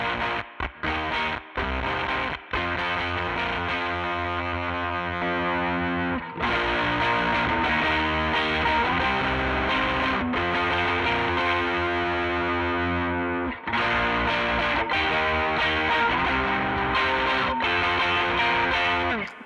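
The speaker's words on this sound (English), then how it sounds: "Something I like about this tone stack is you can get a really gated kind of sound." A Beetronics Abelha fuzz pedal gives an electric guitar a gated, sputtering fuzz tone, loud chords chopping off abruptly into silence between bursts, then sustaining longer in thick, buzzing stretches.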